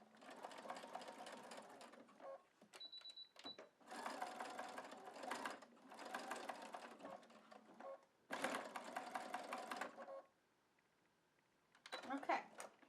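Sewing machine stitching a coiled rope basket, running in several bursts of rapid mechanical stitching with short pauses between, fairly close and steady.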